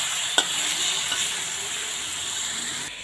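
Spicy sardines sizzle and hiss steadily in a hot frying pan, a continuous close crackle with one brief clink near the start and no voices.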